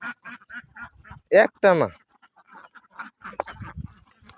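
Ducks at a duck farm quack in a few loud, nasal calls close by, mixed with a person talking throughout.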